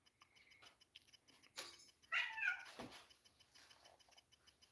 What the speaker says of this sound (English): I stepped on the cat.